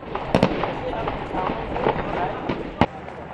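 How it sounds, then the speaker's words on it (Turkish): Explosions and gunfire at night in a city where Iraqi army and peshmerga forces are clearing militant-held streets, heard as sharp distant bangs and cracks spread across a constant noisy rumble, with voices faintly present. "gece saatlerinde yeniden patlama ve silah sesleri duyuldu."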